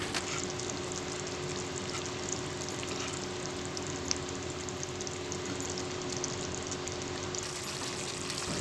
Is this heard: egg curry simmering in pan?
yes